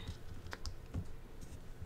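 Paper being folded and creased by hand to make an origami piano, close soft taps and rubbing presses in an irregular run, quiet and without talk.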